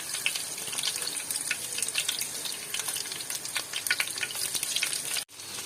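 A sliced onion snack shallow-frying in a pan on low flame, turned over partway through: dense crackling sizzle with bubbly spitting close up, briefly dipping near the end before carrying on, no speech.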